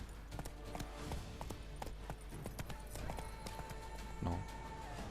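Rhythmic clip-clop of a horse's hooves galloping in The Witcher 3, a quick steady beat under game ambience, with faint voices in the background.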